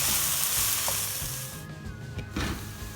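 Eggplant and mushroom frying in a pan on the stove, a close, bright sizzle that eases slightly partway through, with light stirring scrapes and no talk.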